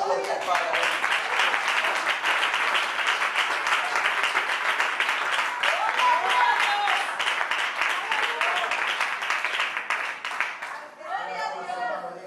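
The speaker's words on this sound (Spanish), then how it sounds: "Pero un aplauso fuerte al Padre." A church congregation at an evangelistic service applauds loudly and steadily for about eleven seconds, a dense wash of many hands, with brief voices and chatter rising as it ends.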